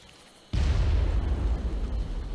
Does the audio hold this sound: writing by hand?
no